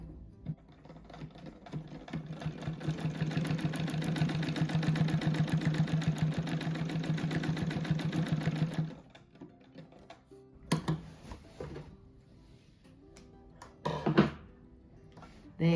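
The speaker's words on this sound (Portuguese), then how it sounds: "agora venho e faço uma costurinha bem no meio aqui" A sewing machine runs a steady line of stitching down the middle of a fabric rug for about nine seconds, a close rapid mechanical hum, then stops, leaving scattered handling clicks and thumps.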